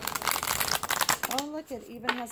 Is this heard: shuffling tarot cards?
yes